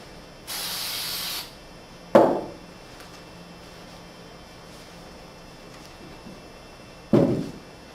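An aerosol can sprays solvent cleaner in one steady hiss lasting about a second, followed by two separate thunks of the can or objects being set down, with quiet pauses between and no speech.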